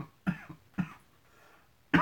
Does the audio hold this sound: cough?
yes